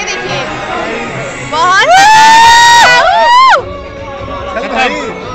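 A crowd leaving a cinema after a Gadar 2 screening: steady hubbub of many voices, then a loud stretch of shouting and a long, rising and falling whoop that fades back into chatter.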